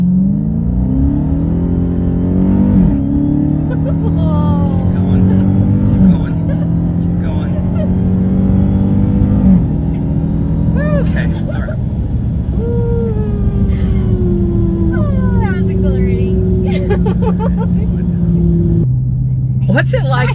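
A car engine, heard from inside the car, revs hard toward redline, its pitch climbing in steps through repeated gear shifts, and stays loud and steady with voices talking over it.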